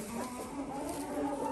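Older Brahma hens in a poultry yard clucking faintly in the background, soft and continuous with no voices present.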